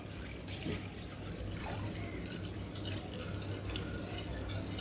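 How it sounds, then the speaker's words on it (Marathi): Milk poured into a pan of white sauce for pasta, a soft steady liquid wash with faint scraping of a utensil, quiet and close with no talking. "आता हे सगळं दूध त्याच्यामध्ये टाकून द्यायचं आहे।"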